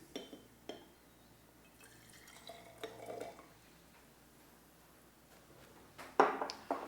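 Vitamin C solution and iodine solution are poured together in a school lab, with faint glassy clinks, a soft trickle and a short pouring splash near the end.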